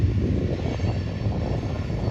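A steady low rumble and rattle of a long freight train with a mid-train engine rolling past nearby, continuous with no voices.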